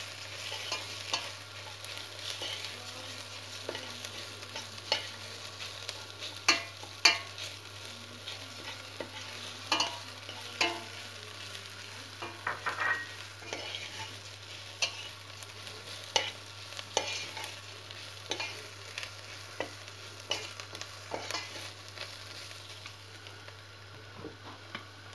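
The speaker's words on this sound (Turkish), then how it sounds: "tel şehriyem var, onu koyuyorum içine ve biraz kavuruyoruz" Thin vermicelli noodles being stirred and toasted in a pot, with a faint steady sizzle and repeated light scraping taps from the stirring, close and fairly quiet.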